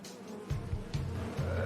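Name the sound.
bees buzzing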